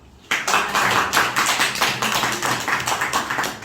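A room of people claps for an aunt at a seminar, a dense run of close hand claps starting after a brief quiet moment and holding steady to the end.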